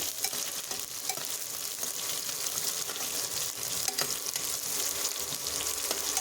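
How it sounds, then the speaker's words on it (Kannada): Chopped onion fries with chana dal and urad dal in a pan while cooking a sweet pumpkin palya, a steady, close, even sizzle that holds for several seconds with no talking. "ಈರುಳ್ಳಿ ಟ್ರಾನ್ಸ್ಪರೆಂಟ್ ಆಗೋವರೆಗೂ ಹುರ್ಕೋತಾ ಇದ್ದೀನಿ"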